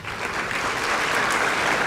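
An audience at a Lawrence County school sports recognition event claps for honored athletes, with steady, dense applause filling the short moment.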